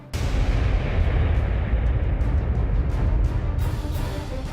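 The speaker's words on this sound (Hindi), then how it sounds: "एक जोर का धमाका" A loud explosion in the hills bursts in abruptly amid rising smoke, then a heavy, sustained low rumble roars on for several seconds, with scattered crackling bursts on top and no voices.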